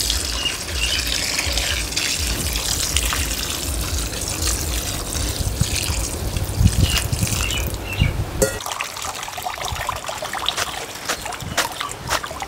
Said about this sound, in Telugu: వెంటనే చల్లనీళ్ళు పోసుకొని మళ్ళీ వడకొట్టుకోవాలి